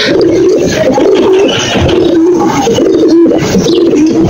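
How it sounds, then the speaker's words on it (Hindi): Soft, repeated cooing of pigeons close by, a low warbling rhythm continuing over a steady background hiss. "ये है खूबसूरत से कबूतर,"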